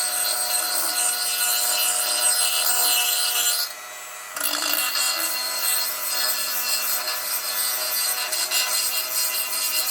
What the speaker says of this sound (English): then we'll get it back in the sink with a quick rub down with an iron brush